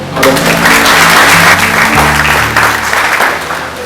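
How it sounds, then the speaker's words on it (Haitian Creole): An audience at a World Youth Day ceremony breaks into loud, dense applause, many hands clapping together for several seconds before it starts to thin out toward the end. "On l'applaudit s'il vous plaît."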